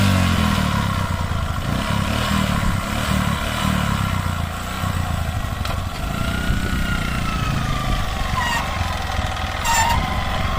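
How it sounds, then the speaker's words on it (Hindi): Motorcycle running on pure desi ghee as fuel, kick-started and put in gear, its engine chugging steadily and loudly close by as it pulls away, with no talk over it. "हमारी बाइक है जो एक किक में स्टार्ट हो चुकी है और अब हम इसका गियर डालते हैं"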